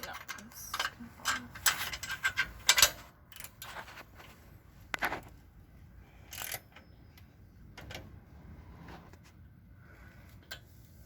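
Ratchet wrench with a short socket clicking while tightening the front coil spring on a 1991 Ford E350 van, irregular bursts of metallic ticks, fairly quiet against a background hum.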